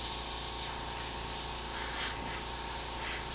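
An airbrush sprays paint across a polished chrome chain, giving off a soft, steady, continuous hiss of moderate loudness that stays even throughout, with no voices.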